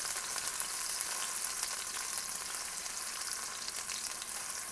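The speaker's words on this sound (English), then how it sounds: "So we'll start with some onions on medium-high heat." Onions fry over medium-high heat with a continuous, close hissing sizzle and bright crackling pops, steady throughout with no talking.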